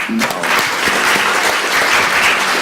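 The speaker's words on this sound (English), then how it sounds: "shall we give another round of applause to Karl?" Loud audience applause after a speech at a social enterprise summit on aging, a dense even clapping wash with a few sharper individual claps near the start.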